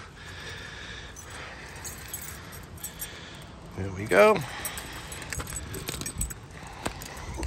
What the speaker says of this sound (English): it helps to have the key out of my pocket